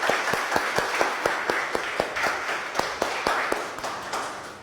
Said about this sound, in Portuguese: quem gostou pode bater palmas.